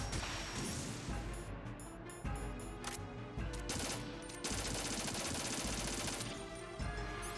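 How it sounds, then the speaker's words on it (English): M4 rifle fire in Metal Gear Solid 2 cracks out in several sharp bursts and single shots spread across the clip, loud and close, with impacts and clatter in between and no talking. "More M4 bullets."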